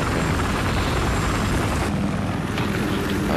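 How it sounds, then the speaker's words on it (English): Transport helicopter in the shooter game Battlefield Hardline, a loud steady rotor and engine drone filling the whole clip at close range, with no talk over it. "Where's our transport chopper?"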